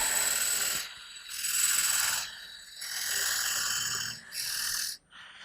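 Ratcheting mechanical clicking as a lathe chuck's jaws are tightened onto a dovetailed Indian rosewood bowl blank, coming in three or four sustained bursts with short pauses between, close and fairly steady, no voices.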